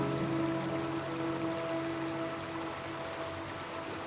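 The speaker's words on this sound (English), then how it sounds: "The stream winds its way up the canyon, twisting and turning like it's got nowhere else to be." A mountain stream rushes steadily through a canyon in Colorado's Flat Tops, a continuous broadband wash of flowing water heard close, with a faint steady hum underneath.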